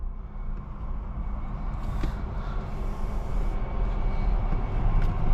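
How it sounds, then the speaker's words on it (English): A 2022 Jeep Wrangler Unlimited Sahara 4xe hybrid drives along as its engine comes in, a low broadband rumble that builds steadily in loudness with no talking. "now the engine sound is starting to kick in"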